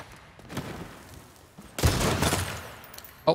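Dual pistols fire in the vampire battle royale game Bloodhunt, a few sharp bursts close in the mix, the loudest volley near the middle and a final crack at the end, with no one talking.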